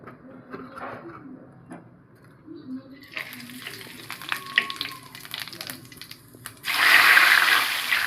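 Bay leaf and cumin sizzle in hot oil in a kadai after fried potatoes, a soft crackle with scattered clinks that swells into a loud, hissing sizzle at the end.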